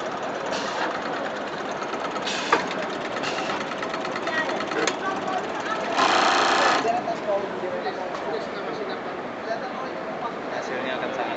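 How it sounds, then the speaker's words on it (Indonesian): An automatic insole folding machine runs with a busy mechanical clatter and whir, steady throughout, with a louder burst partway through and talk in the background. "Mesin lipat otomatis."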